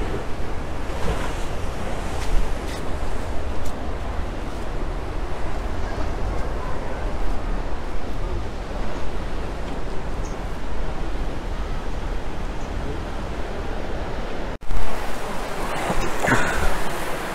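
Surf rolls in continuously at Gesing beach in Gunung Kidul, Yogyakarta, where fishing boats sit, with steady wave wash heavily mixed with wind buffeting the microphone and a sharp gusty bump near the end.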